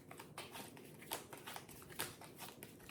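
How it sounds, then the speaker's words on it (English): A deck of tarot cards is shuffled close up, very quiet, with a run of soft papery riffles and sharp flicks spaced irregularly over a few seconds. "Good shuffle."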